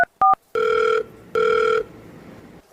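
A telephone call being placed: two quick electronic beeps, then two long, loud ringing tones separated by a short gap, heard close and alone.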